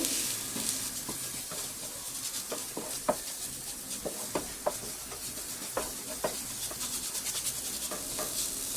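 Ground cashew and almond mixed with cardamom powder for paneer modak, giving steady close scraping and stirring with soft taps of a spoon against the bowl, repeated in an uneven rhythm and heard alone.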